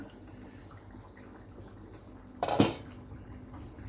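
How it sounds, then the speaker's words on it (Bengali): A lid is lifted off a pot of elephant foot yam simmering on low-to-medium heat, making one short, sharp metallic clatter after a quiet, faintly bubbling stretch. "এবার আমি ঢাকনাটা খুলে দেখে নিচ্ছি"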